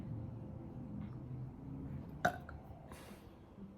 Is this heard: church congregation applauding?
no